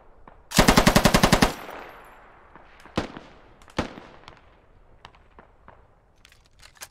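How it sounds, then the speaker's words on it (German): Automatic gunfire in the military shooter game Squad: a loud rapid burst of about ten shots, followed by a few scattered single distant shots and faint crackling. "Ja, ich beschieße die Waffe da drinnen."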